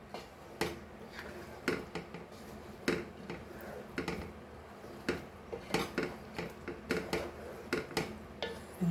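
Brinjal masala with sesame stirred in a pan, a spoon clinking and scraping against the metal in a quick, uneven rhythm of close, light taps.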